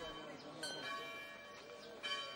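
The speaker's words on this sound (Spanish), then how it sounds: "los pájaros se enmudecen bajo el repicar de las campanas" Church bells ringing in the Albaicín quarter of Granada, Spain, a sustained metallic peal with a couple of stronger strikes, heard at moderate distance under a faint murmur of voices.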